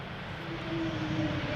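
KLM Embraer E2 jet arriving at Schiphol on a flight from Geneva, a steady distant engine roar that swells slightly as it passes, heard alone.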